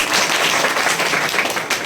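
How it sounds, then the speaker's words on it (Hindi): A classroom of students bursting into loud, sustained clapping, a dense patter of many hands lasting under two seconds. "एक बार जोर से ताली बजा देना"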